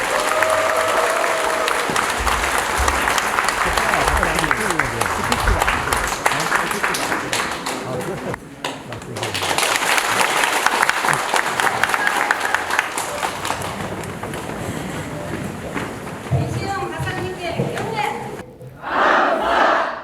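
A large lecture-hall audience greets a psychiatrist's special talk with loud applause and whooping cheers, a dense crowd roar with shouts mixed in, dipping briefly midway and again near the end as voices come through.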